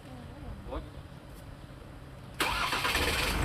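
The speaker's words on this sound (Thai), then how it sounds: "หลวงปู่96 ปีฮะสตาร์ทรถให้" A car engine is cranked and fires up, turned over by a 96-year-old monk; quiet chatter and a low idle-like hum come first, then the engine catches abruptly and runs loud and steady near the end.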